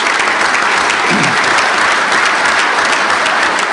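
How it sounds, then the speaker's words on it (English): A large convention audience breaks into sustained, loud applause, a dense and even roar of clapping from a full room that holds steady throughout. "So give yourselves a round of applause, please."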